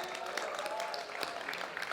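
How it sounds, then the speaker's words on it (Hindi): Audience applause for a guest at a live Hindi comedy show, a steady wash of clapping from a crowd held at an even level throughout. "जोरदार तालियां सौरभ सर के लिए"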